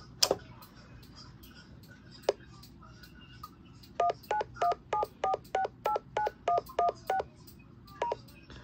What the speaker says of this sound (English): Right now it's not actually dialing because I don't have a phone set up. So it's gonna do all that beeping and all that.